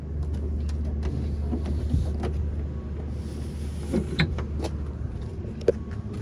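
Power windows whir upward on a 1969 Plymouth Road Runner convertible: a steady low motor drone punctuated by a few faint clicks and knocks.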